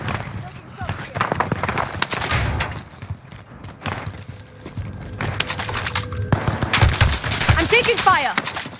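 Rapid bursts of gunfire in Call of Duty Warzone on Rebirth Island, including a Swiss K31 rifle and OTs 9, crack repeatedly at close range, mixed with thumps and game radio voices calling out over the firefight.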